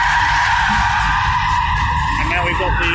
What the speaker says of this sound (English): And now we've got the drift cars doing their thing.